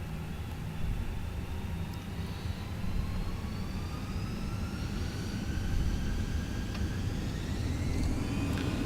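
An Airbus A320's jet engines run at takeoff thrust in Microsoft Flight Simulator, a steady, dense roar with whining tones that climb slowly in pitch as the engines spool up and the aircraft accelerates.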